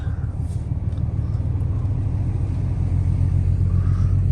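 Cabover truck driving onto a trailer, its engine a loud, close, continuous low rumble that holds steady throughout.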